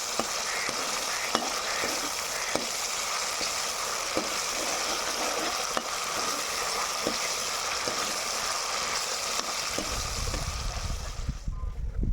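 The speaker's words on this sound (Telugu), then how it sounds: "పచ్చివాసన పోయేంత వరకు వేయించుకోవాలి" Onion, potato and masala for a chicken and potato curry fry in a pan with a steady, loud sizzle. Occasional stirring clinks and scrapes come through, and a low rumble rises near the end.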